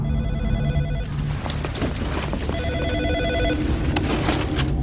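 A telephone rings in repeated electronic bursts with a brief pause between them, loud and close over a busy background of music and room noise in a movie scene.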